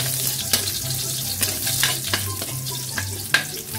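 Garlic sizzles loudly in a hot pan, a constant crackling fry broken by scraping stirs and sharper spatters, heard close with no talking.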